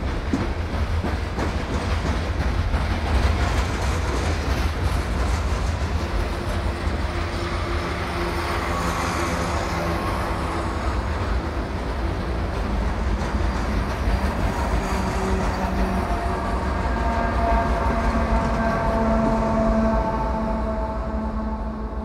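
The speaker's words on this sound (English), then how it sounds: "One distributed locomotive brings up the rear, passing us at 1:30 in the afternoon" A long CSX freight train crosses the Blue Ridge Mountains on the Clinchfield line, with a distributed locomotive at the rear. Loud, steady wheel rumble and clickety-clack run throughout, with faint horn-like tones near the end.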